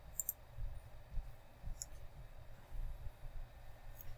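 Computer mouse clicking on a website, a few sharp isolated clicks spaced apart over a low background hum, no talking.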